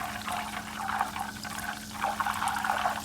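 Butter boils steadily in a pot while being cooked down into ghee, a continuous bubbling, sizzling hiss with small crackles over a low steady hum, with no talk.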